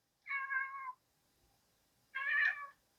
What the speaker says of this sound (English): hear my cat.